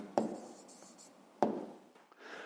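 Pen writing by hand on paper, two quick faint scratching strokes about a second apart, each trailing off softly, recorded close in a quiet room.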